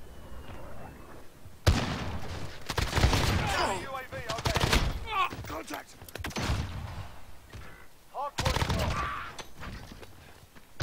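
Holger-26 light machine gun fire in Call of Duty: Modern Warfare comes in several loud, rapid automatic bursts separated by short pauses, with a voice talking in between.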